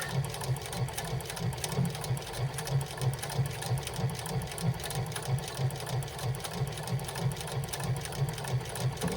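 Sewing machine running steadily as it stitches a strap for a wristlet with a swivel attached, a fast even mechanical whir with rhythmic needle thumps, close and continuous throughout with no talking.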